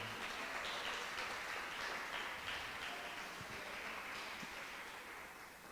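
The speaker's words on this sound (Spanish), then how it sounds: "Dele otro aplauso al Señor" Faint, sustained applause from a church congregation clapping for the Lord during a sermon, a dense even patter slowly tapering off, with no talk.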